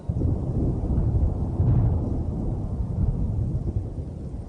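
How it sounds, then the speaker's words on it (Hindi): Deep, continuous rumbling of thunder during a fierce storm, loud and sustained with a heavier swell near the middle, no voices present. "बिजलियां गिर रही थी"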